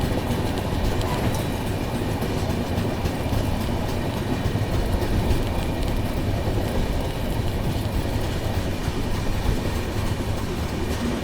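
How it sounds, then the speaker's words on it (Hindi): The 12398 Mahabodhi Express runs at speed on the New Delhi to Gaya line past Tundla Junction, giving a continuous loud rumble and rushing rattle of wheels and carriages with no pauses. "दोस्तों अपनी ट्रेन अब टूंडला जंक्शन को स्किप करने वाली है और टूंडला पर धीमे हो गई थी, लेकिन दोबारा से स्पीड पकड़ चुकी है"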